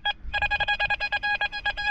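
Metal detector signalling while searching a field at a former tavern site for coins and shell casings, a rapid string of bright, evenly pulsed electronic beeps, close and clear, with a short gap near the start.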